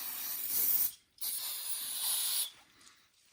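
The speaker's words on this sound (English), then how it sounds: "I can take a little blue shop rag, a little bit of brake cleaner" Brake cleaner hisses from an aerosol can onto a blue shop rag in two short close bursts, each under a second or so, with a brief pause between.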